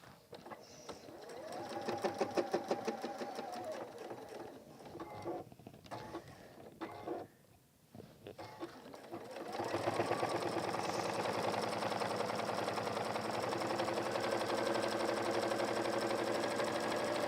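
A sewing machine stitches a messenger bag strap in a quiet room, first in brief stop-start runs, then settling into a long, steady, moderately loud stretch of continuous stitching.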